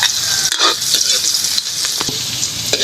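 Garlic sautés in a hot pan with a bright, steady sizzle and crackle. Occasional stirring scrapes break in, and there is no talk.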